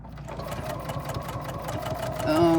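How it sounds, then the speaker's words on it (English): A sewing machine stitches back over fabric while making a reversible Anytime Topper, its motor running in a steady, close mechanical whir that rises in pitch and loudness near the end. "then I'm going to back stitch there"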